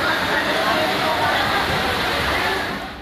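Heavy floodwater surging through village lanes in Todaraisingh, Tonk, Rajasthan after heavy rain, sweeping away people and vehicles; a loud, steady broadband roar of rushing water throughout, easing slightly at the end.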